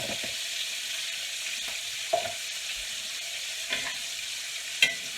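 Onions frying in butter in a pan beside a seared steak, a steady soft sizzle with a few brief stirring clicks from a utensil, no talk.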